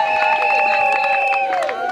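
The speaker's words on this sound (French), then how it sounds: "Applaudissez" A crowd at a civil wedding ceremony in the commune of Engalé cheers with high, trilling voices and scattered clapping, a bright, lively burst that fills the whole moment.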